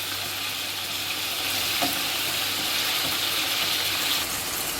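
Pork browning in oil in a pot ahead of stewing, giving a steady, close hiss of frying fat, with a few faint clinks as the pieces are turned over.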